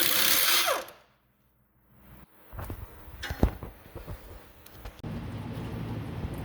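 A flex-head air impact wrench works head bolts loose on an engine, giving short bursts of mechanical rattling and whirring after a near-silent pause. The sound is fairly close and moderately loud, with no talking.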